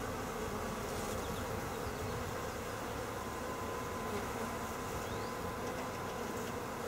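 Honeybees buzz steadily and densely around an open new hive during an inspection, a continuous close drone with no voices.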